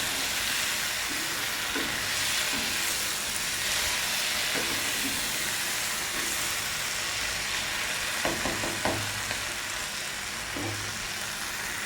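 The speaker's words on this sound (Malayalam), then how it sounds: "തക്കാളി ഒന്ന് എന്ത് കിട്ടണം അത് അതുവരെ നമുക്ക് ഒന്ന് വഴറ്റി കൊടുക്കാം" Chopped medium tomato sautéing in a hot pan for chickpea varattiyath, a steady broadband sizzle throughout with a few soft clinks of a spoon against the pan, close and moderately loud, no talking.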